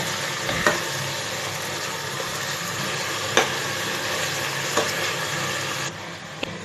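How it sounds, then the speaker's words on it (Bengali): Chicken pieces fry with spices in hot oil, a steady broadband sizzle that runs throughout, broken by a few sharp scraping stirs of the pan at intervals. "আর মিনিট দুয়েক মশলার সাথে চিকেনের টুকরোগুলিকে ভালো মতো কষিয়ে নেব"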